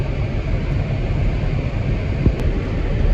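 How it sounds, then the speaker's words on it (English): Loud, steady blizzard wind roaring across the microphone on a farm while feeding cattle, continuous rumbling buffeting with a brief knock near the end, no talk. "She's a blizzard"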